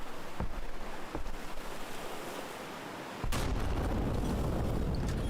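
Video game artillery fire lands as a low rumbling barrage, with a few dull thumps and then a loud sustained blast of roaring noise that carries through to the end.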